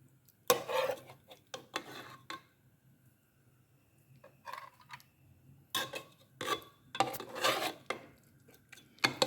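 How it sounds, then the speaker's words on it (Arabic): Cooked dried beef (dialla) tipped into a tagine in scattered bursts of dry clattering and rattling against the pot, separated by quiet pauses; no one speaks. "كما كتشوفوا حنا غادي نصبوا الدياله. انا كنصب في الطاجين"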